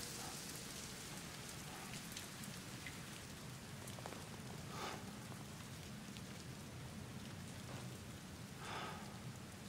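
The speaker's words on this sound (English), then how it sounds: "yeah, it's acid rain." Steady acid rain in the video game Death Stranding patters on a surface, with scattered louder drops and a low rumble underneath; no voices.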